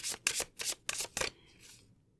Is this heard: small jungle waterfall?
no